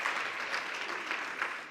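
A conference audience at a health policy event breaks into cheering and applause, a steady mid-loud wash of clapping with a few brief swells and no speech over it.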